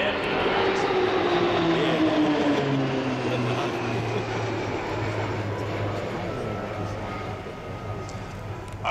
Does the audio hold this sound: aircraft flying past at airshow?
yes